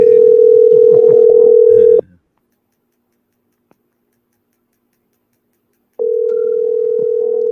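Telephone ringback tone during an outgoing call to a public relations officer on a live radio show, a steady hum of about two seconds, then silence, then the tone returns loud and continuous.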